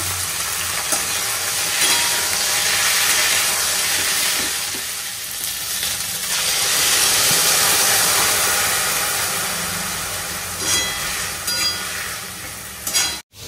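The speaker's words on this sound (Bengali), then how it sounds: "এর মধ্যে আলু আর পেঁয়াজটা দিয়ে দিচ্ছি" Potatoes and onions hit hot oil already tempered with five-spice and bay leaf, crackling into a loud, sustained sizzle that rises and falls with stirring, then cuts off abruptly at the end.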